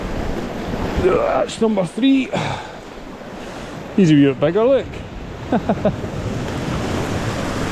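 Sea waves breaking on a rocky Pembrokeshire shore make a steady broadband wash with wind buffeting the microphone, while someone talks intermittently over it close by.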